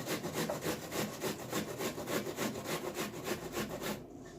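Half an onion rubbed against a grater in rhythmic back-and-forth strokes, steady and close, for potato pancakes, stopping abruptly near the end.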